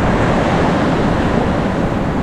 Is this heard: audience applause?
no